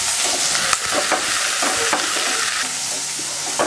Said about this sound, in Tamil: அடுத்து பூண்டு, வெங்காயம், பச்சை மிளகாய், கருவேப்பிலை இதெல்லாம் நல்லா வதக்கிக்கலாம்